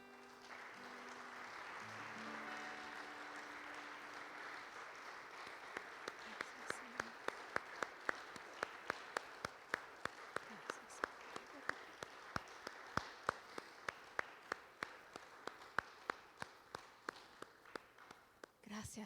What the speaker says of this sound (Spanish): Dale un aplauso.